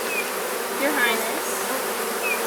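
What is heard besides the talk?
honey bees buzzing at an open hive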